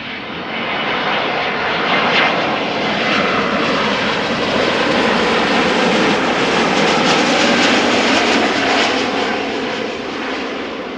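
An Airbus A321neo jet at Amsterdam Schiphol Airport gives a loud, sustained engine roar that swells and holds steady, with a rushing high hiss over the whole stretch and no voices.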